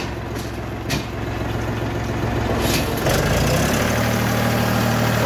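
A 2023 tractor's heavy diesel engine idles steadily with a low, throbbing rumble, its pitch shifting slightly partway through.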